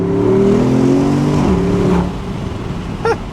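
A 2020 Porsche Cayenne Coupe Turbo engine revs hard and close, its loud rising tone climbing then dropping as it eases off, leaving a quieter rumble.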